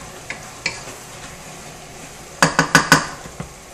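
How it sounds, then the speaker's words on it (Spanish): Chicken in tomato sauce in a pan, soft frying in the background with a few utensil taps, then a quick burst of loud clinks of a spoon against the pan. "Aquí dejamos que se fría todo perfectamente"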